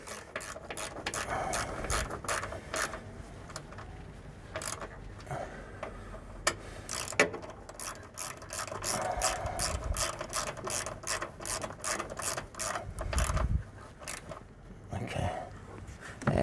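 A ratchet wrench clicks in quick repeated runs while bolts are tightened on a Ford Falcon FG-FGX air intake, the close metallic ticking coming in bursts with short pauses between strokes.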